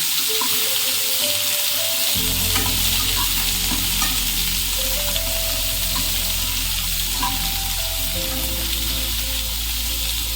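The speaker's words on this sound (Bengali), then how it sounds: "কুচিয়ে থাকা পেঁয়াজগুলো দিয়ে দিলাম। হালকা হাতে নাড়িয়ে দেবো।" Chopped onions hiss in hot oil in a pan and are gently stirred. A steady, close sizzle runs throughout with soft scraping from the stirring and a low hum underneath. No one speaks.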